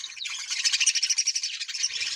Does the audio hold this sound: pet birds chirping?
yes